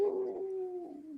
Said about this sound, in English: So you may hear some barking.